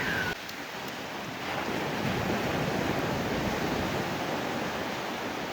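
Sea waves roll onto a shore at high tide in a broad, constant wash of surf, steady and fairly loud, with wind rumbling against the microphone.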